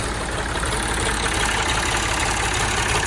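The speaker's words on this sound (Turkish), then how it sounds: "şimdi traktörümüzü çalıştırıyoruz" A Massey Ferguson 240 tractor engine idles loud and close, a steady low rumble with a rough, knocking texture and no change in pace.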